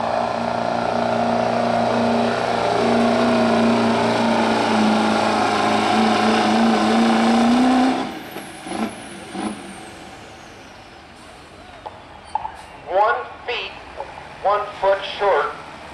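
A Cummins diesel truck pulls against a Chevy at a truck-pulling event. Its loud engine drone holds and slowly climbs in pitch, then cuts away, leaving distant crowd noise and a voice talking.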